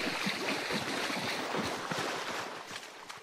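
Splashing water in Hunt: Showdown as a player wades across, a rushing, churning wash of sloshes and small splashes, close and fairly steady.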